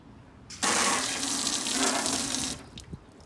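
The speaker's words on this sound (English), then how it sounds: "spray a little bit on the handle." Water sprayed from a hose onto the door handle of a BMW Z4 during a car wash, a steady close hiss lasting about two seconds before cutting off, followed by a few faint drips.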